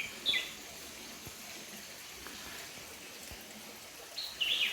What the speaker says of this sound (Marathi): आणि पाणी येतं ना या झऱ्याचा